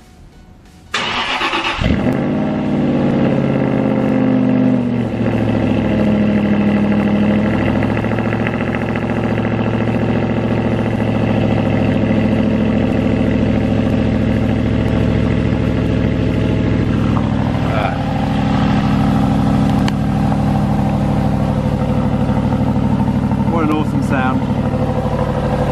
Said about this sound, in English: Cold start with a fuse delete in a warehouse.